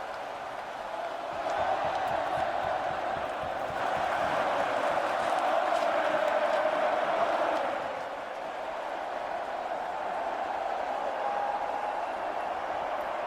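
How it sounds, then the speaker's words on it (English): Hockey crowd at a Canadiens playoff game in an arena in 2021, singing together in a loud, sustained roar that swells mid-way and then eases, with no commentary over it. "the crowd's been waiting to sing this for a while"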